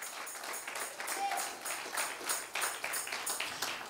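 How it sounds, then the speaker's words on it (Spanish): Church audience applauds in a steady, moderately loud wash of many hands clapping, with voices mixed in throughout. "Dale ese aplauso al Rey de Reyes."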